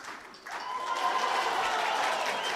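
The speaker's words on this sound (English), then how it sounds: "This crowd is at fever pitch." A crowd applauds at the men's 10m air pistol gold medal final, the clapping swelling up after a brief quiet moment and then holding as a dense, sustained wash of sound.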